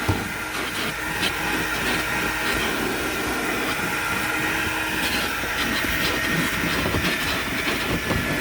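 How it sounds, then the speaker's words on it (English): A Desidero Plus steamer vacuum runs over carpet with a steady, loud broadband whir and hiss, holding close and constant throughout with light rattling texture and no talking. "So now I'm going to use my Desidero as a vacuum."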